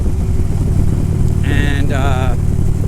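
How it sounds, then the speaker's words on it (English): A Harley-Davidson touring motorcycle with a 103 Twin Cam engine holds a steady, loud low idle rumble throughout, with a voice briefly talking over it. "you've got the engine on these bikes, these touring bikes that Harley makes"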